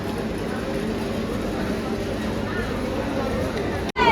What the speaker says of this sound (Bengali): এই ট্রেনটা খুব ভিড় হবে জায়গা পাবো কিনা সেটাই ভাবছি ট্রেন অলরেডি ঢুকে গেছে